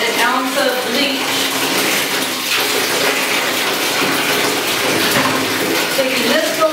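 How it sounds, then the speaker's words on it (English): Super hot water gushing steadily from a tap or hose for a milking parlor wash cycle, a loud, continuous rushing sound that fills the whole stretch without pause. "Bring that water out and get our super hot water going for the wash cycle."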